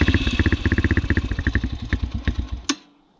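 The electric starter of a 2003 Yamaha TTR125 dirt bike cranks in a fast, even chugging rhythm for under three seconds, then stops with a sharp clunk as the engine fails to catch, leaving brief quiet.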